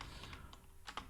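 Quiet, rapid keystrokes on a computer keyboard come in an uneven patter of light clicks while an SQL query is typed, with the last few taps a little louder.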